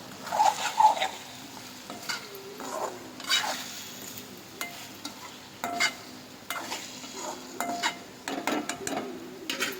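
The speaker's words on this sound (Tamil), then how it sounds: "இப்போ கொஞ்சம் கிளறி விட்டுக்கலாம்." Potatoes cooking in a pan are stirred, producing repeated scraping and clattering strokes over a soft background sizzle, close by and moderately loud with no talking.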